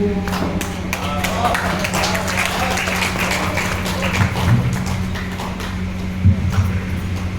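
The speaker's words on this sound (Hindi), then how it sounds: "तो जोरदार तालियां होनी चाहिए पांडे जी के लिए" Applause from an audience at a talk, dense steady clapping that stays even throughout, with a low hum and occasional voices underneath.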